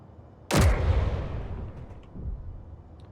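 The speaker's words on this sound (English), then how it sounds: "It fires artillery shells." A large-grid artillery cannon in the video game Space Engineers fires a single heavy, booming shell shot that rolls off into a long decaying rumble, followed by a fainter second thud, loud and alone with no talk.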